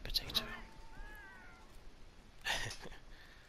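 Cats in the game Monster Hunter World meowing, with several short mews, a drawn-out wavering meow in the middle and a louder cry near the end, over quiet background and a faint voice.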